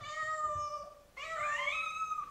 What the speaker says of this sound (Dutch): Waarschijnlijk als ik hiermee binnenkom gaan ze al meteen miauwen gewoon.